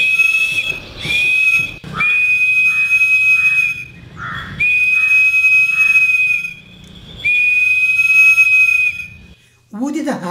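A homemade straw whistle gives loud, sustained, piercing bird-like tones in several long blasts separated by short gaps, with quick chirpy warbles between them. A brief voice-like sound comes at the very end.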